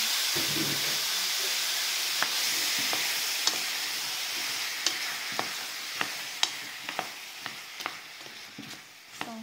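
Fresh garden strawberries sizzle and bubble in a pot as they cook down into jam. A steady hiss runs under repeated sharp pops and crackles, with occasional stirring sounds near the start.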